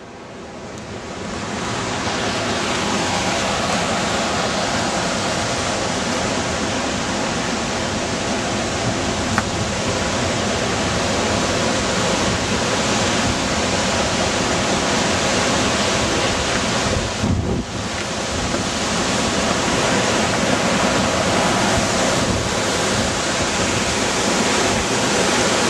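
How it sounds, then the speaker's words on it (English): Waterfall at Fossil Creek, Arizona, a loud, continuous broadband roar of rushing water close to the microphone, with slight buffeting, holding steady for the whole stretch and with no one speaking. "Behind the waterfall too."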